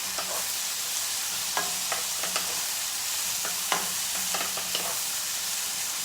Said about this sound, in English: So all we're doing now is cooking these onions down.